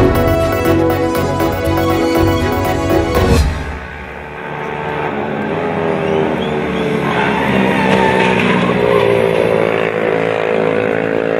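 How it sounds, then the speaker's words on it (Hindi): Motorcycles race in Costa Rica, engines roaring loud and close: a high revving buzz that drops sharply as a bike passes, followed by a sustained lower engine drone. "कोस्टा रिका में मोटरसाइकिल रेस के दौरान ड्राइवर की दूसरे मोटरसाइकिल सवार को गिराने की कोशिश"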